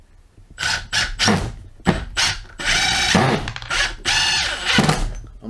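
A Milwaukee M18 FID2 Gen3 Fuel impact driver runs on speed 2, firing in a series of short, loud bursts of whirring and rapid hammering separated by brief pauses, with no talk during the runs.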